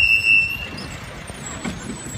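A route 12 PAZ minibus drives past on the street with a steady, moderately close engine rumble and a faint high tone above it.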